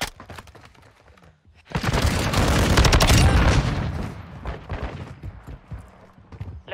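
Sustained bursts of STB 556 rifle fire in a Call of Duty Modern Warfare 2 Headquarters match, loud, rapid automatic shots, with scattered single shots and game effects before and after the main volley.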